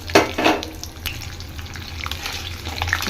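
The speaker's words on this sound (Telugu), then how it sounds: "నూనె కాగుతుండగానే మనకున్న ఈ తాలింపులన్నీ ఇందులో వేసేసుకోవాలి" Tempering spices dropped into two spoons of hot oil on a stove for wheat rava upma sizzle steadily, with a couple of louder splutters near the start and a continuous frying hiss beneath.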